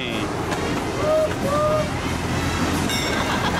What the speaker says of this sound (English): So we're gonna ride the steam locomotive is what we get.